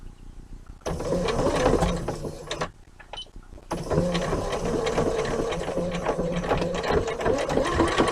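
A sewing machine stitches denim from a pair of jeans being made into a tote bag, running in steady close bursts with a brief pause before resuming at the same pace.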